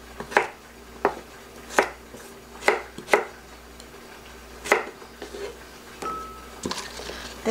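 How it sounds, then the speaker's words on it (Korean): A knife dices a carrot into small cubes on a cutting board, with about ten crisp, close chops in an uneven rhythm and a faint clink near the end. "당근은 이렇게 아주 작게 깍둑 썰기를 해두고요"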